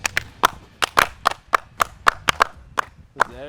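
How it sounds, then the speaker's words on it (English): A dozen or so sharp, distinct claps from a small group of workers on a tree removal job, loud and close in an uneven rhythm, with a voice briefly at the end. "I need a clap from"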